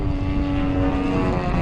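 An RC Yak 54 model airplane powered by a DLE 55 gas engine flies at an airfield, its engine giving a steady, loud, continuous drone with a strong harmonic whine throughout, no voices.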